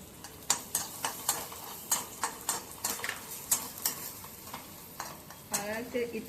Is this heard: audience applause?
no